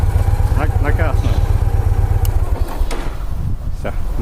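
A small motorcycle engine idles steadily with a low, continuous rumble close by, while people talk over it throughout.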